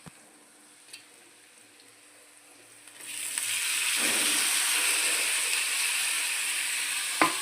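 Tomatoes tipped into a hot pan for a tomato egg curry, bursting into loud steady sizzling after a quiet start with a few light clinks.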